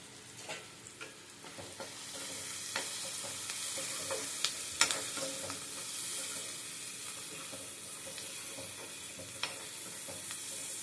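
Curry leaves and onions fry in a pan with a steady close sizzle, broken by a few sharp crackles and spoon scrapes as they are stirred.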